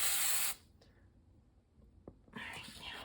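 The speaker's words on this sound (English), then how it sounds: "Now, next step, I have to take and spray this with hairspray." An aerosol can of hairspray is sprayed over pastel artwork: a loud, sharp hiss bursts briefly at the start, then after a quiet pause a second, softer spray follows near the end.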